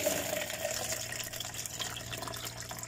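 Cold water runs steadily from a tap in a continuous, even gush with a faint low hum beneath it. No one speaks.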